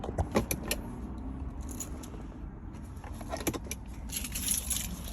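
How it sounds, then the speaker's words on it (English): A bunch of keys jangles close up on a neck lanyard inside an Infiniti G35 car, with a few sharp metallic clinks over a steady low rumble. "Let me take these keys off my neck."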